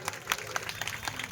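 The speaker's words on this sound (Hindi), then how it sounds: "सब तालियां बजाए जोरदार" An audience claps at a Shah community award ceremony, a dense, steady patter of many hands at moderate volume with scattered sharper claps standing out.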